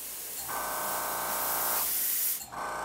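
A paint spray gun hisses out thin paint at low pressure while a firetiger crankbait is being painted, in two steady close bursts with a short gap between them.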